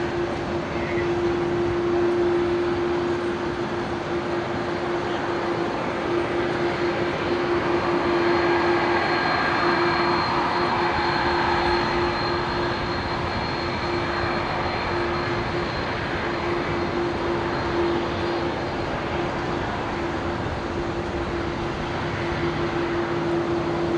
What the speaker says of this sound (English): Qatari triple taxiing past there